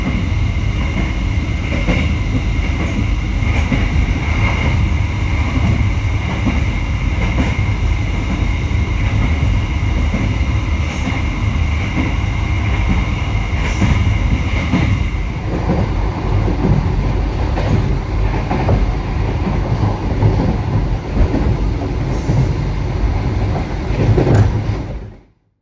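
Passenger train running on rails heard from inside a coach of the Pasundan service in Indonesia, a loud continuous rumble with faint rhythmic clicking that holds steady throughout before cutting off abruptly.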